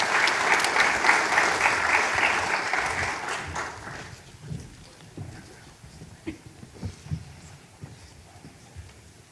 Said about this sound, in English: Please join me in giving the panelists a big round of applause.